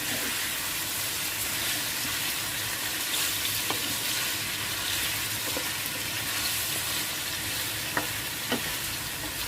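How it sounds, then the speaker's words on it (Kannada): Stuffed brinjals stirred and frying in tempering oil in a pan, giving a constant close sizzle with occasional light clicks of the spoon against the pan and no talk. "ಇದನ್ನು ಚೆನ್ನಾಗಿ ಒಗ್ಗರಣೆಯಲ್ಲಿ ಒಂದು ಸ್ವಲ್ಪ ಕೈ ಆಡೋಣ"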